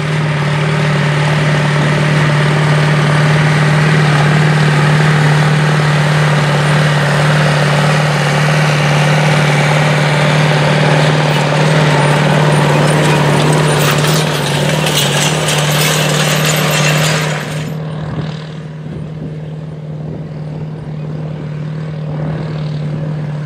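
A 1981 International 4786 farm tractor engine runs steadily and loudly with a strong low drone, then drops to a softer idle-like hum near the end; no voices.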